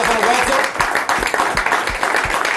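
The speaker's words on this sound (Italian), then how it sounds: "Un applauso" A studio audience on an Italian television programme breaks into brisk, fairly close applause that continues throughout the short stretch.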